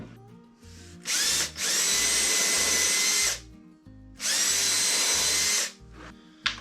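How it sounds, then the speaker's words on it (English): A power drill whines loudly in two sustained bursts of a few seconds each while drilling pilot holes, with quieter rhythmic knocking between and around them. "So I just want to drill a couple of pilot holes in here."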